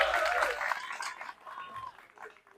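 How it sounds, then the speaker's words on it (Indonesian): Members of a cooperative at a family gathering in Anyer applaud, a fairly faint, soft wash of clapping mixed with a few raised voices and chuckles that fades out toward the end. "Tepuk tangan buat teman-teman semuanya."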